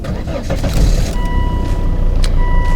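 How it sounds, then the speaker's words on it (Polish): A car engine cranks and starts after a jump start with booster cables, settling into a loud, steady close-up rumble with a thin tonal whine running over it. "Po odczekaniu tych paru chwil przekręcamy kluczyk"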